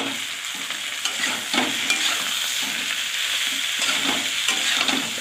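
Eggplant and potato pieces fry in hot oil in a pan for a Bengali fish curry, a steady loud sizzle broken by repeated spatula scrapes and stirring strokes, with no one speaking.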